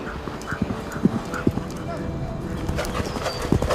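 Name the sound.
horse hooves clip-clopping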